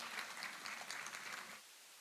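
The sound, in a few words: audience applause at a conference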